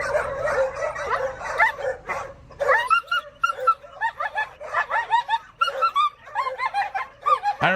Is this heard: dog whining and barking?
yes